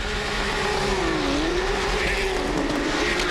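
Porsche GT3 Cup race cars at Phillip Island hold their engines at the 8,000 RPM rev limit at a race start, making a loud, sustained, buzzing drone that wavers slightly in pitch, with a faint voice in the background.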